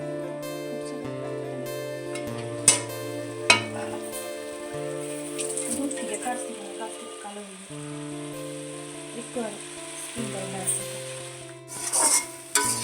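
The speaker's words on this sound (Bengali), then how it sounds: "টমেটোটা দিয়ে দিলাম। নেড়ে চেড়ে কষিয়ে নিচ্ছি।" Tomatoes are stir-fried in a pan, with soft sizzling and a spatula scraping and clinking against the metal now and then, including a few sharper knocks, under steady background music.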